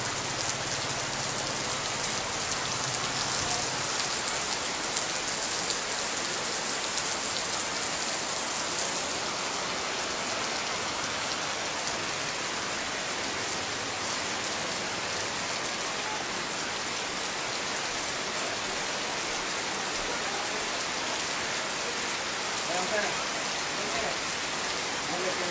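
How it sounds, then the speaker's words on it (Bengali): Hard, sustained rainfall in Bandarban hisses evenly for a long stretch, close and dense, with small irregular drips and splatters throughout and no speech. "অনেক বৃষ্টি হচ্ছে চেপে চেপে।"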